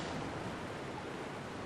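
Rushing water flows in Resident Evil 2 (1998) in a secret laboratory area, a steady, dense wash of noise that holds even and close throughout, with no voices over it.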